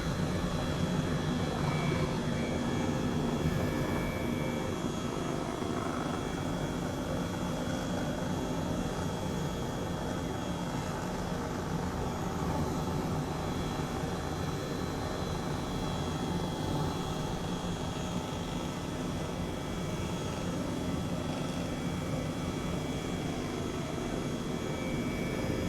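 An H135 helicopter flies over Sydney at sunrise in Microsoft Flight Simulator, a steady loud turbine whine and rotor drone holding constant throughout with no talking.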